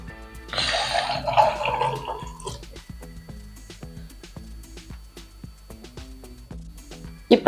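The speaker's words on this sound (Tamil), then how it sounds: "இப்போ நான் ஒரு 1/4 டம்ளர் தண்ணி சேர்த்துக்கிறேன்." A quarter tumbler of water is poured into prawn gravy cooking in a pan: a brief splashing pour near the start, then scattered light clinks and taps of stirring, with no talking.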